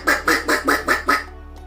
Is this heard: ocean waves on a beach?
no